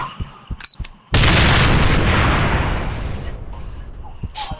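A loud burst of gunfire from a video game headshot erupts after a second of quiet and booms on with a long ringing decay that fades slowly, with faint clicks before and after.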